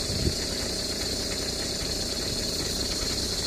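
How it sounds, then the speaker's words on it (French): The 2.0 TDI diesel engine of an Opel Zafira idles close by on a cold start, with a low, even rumble and faint rattling, running unchanged throughout with no speech. "je suis en train de laisser le moteur tourner"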